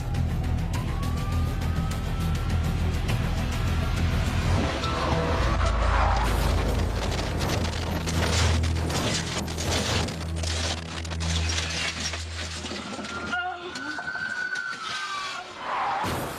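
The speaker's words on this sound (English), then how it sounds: "raced south on US 69 and led officers from 4 different departments on a dangerous high-speed chase" A stolen car racing at high speed on a highway during a police chase, with a loud engine roar and wind noise, rising tire squeals and a siren-like wail, heard close and continuous.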